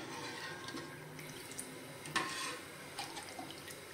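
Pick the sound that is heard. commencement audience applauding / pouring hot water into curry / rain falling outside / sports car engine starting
pouring hot water into curry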